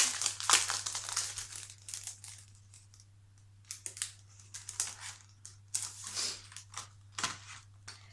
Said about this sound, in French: je décolle les tampons. Je les enlève un par un.